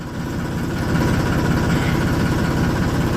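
A warmed-up tractor engine idles steadily on a cold winter day. The sound is a loud, even, close-up low throb with a fast regular pulse, alone and unchanging throughout.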